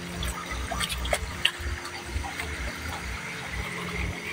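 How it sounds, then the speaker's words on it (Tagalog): A strong, steady flow of running water pours continuously outdoors, a full rushing wash with a few brief splashes rising out of it and nobody speaking. "nakakatuwa yung tubig niya, oh. Lakas, oh."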